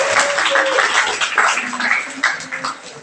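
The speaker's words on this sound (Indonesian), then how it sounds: "Kasih tepuk tangan dulu dong buat SMKN 1 Pacitan" A school audience at SMKN 1 Pacitan claps for the whole stretch, a dense, fairly close wash of applause with a few voices and cheers mixed in.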